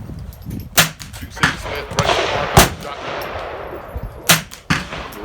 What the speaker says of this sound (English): the first time I've fired it with the new Arrows Gone Smith Carbine bullet